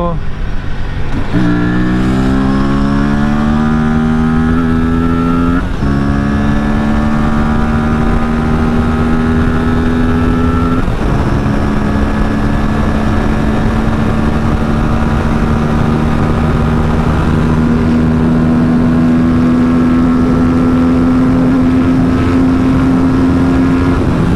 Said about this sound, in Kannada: ಏನು ಟಕ್ಕಂತ ಹೋಗ್ಬಿಟ್ಟು 160 ಕೂರತ್ತಲ್ಲಪ್ಪ ಗಾಡಿ ಇದು